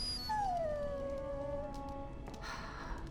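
A dog whines in Dragon Age: Origins, one long high whimper that slides downward and trails off, heard clearly over a low steady game ambience.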